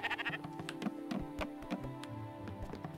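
A sheep bleats in the video game Spiritfarer, quiet and repeated in short wavering calls over faint background game sounds.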